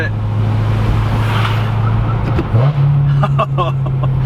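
BMW E90 M3 engine humming steadily, dipping briefly during a gear change into fourth, then climbing to a higher steady drone, with faint talk in the cabin.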